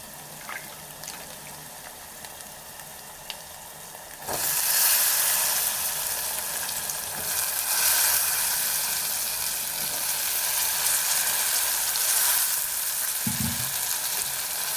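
Brinjals go into a hot pan of fried ginger garlic paste for a brinjal tomato curry. It is quiet at first, then a loud, steady sizzle bursts in about a third of the way through and continues, with a brief clunk near the end.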